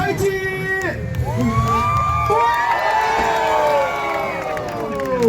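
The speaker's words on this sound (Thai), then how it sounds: "ปรบมือกับมิสเตอร์ไทจิ" Crowd at a jet ski freestyle show in Pattaya cheering and whooping, with shrill rising shouts and whistles over a steady outdoor din and an announcer's voice near the start.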